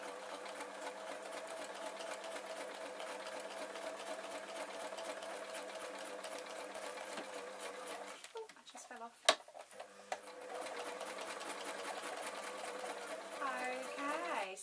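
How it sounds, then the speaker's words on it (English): A sewing machine runs in a steady close whir while stitching the seam of a fabric pencil case, stops briefly partway with a small clack, then carries on. "I'm just going to sew along the rest of it"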